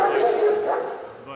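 A Dutch shepherd barks and yips from inside a kennel at a training facility, a few sharp close calls that fade toward the end, with someone talking over them.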